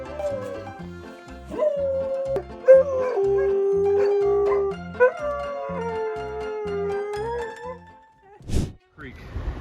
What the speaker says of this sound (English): This dog not only knows how to play the piano, but can also sing like a true artist